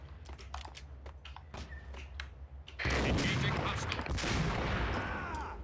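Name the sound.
gunfire in the Max Payne video game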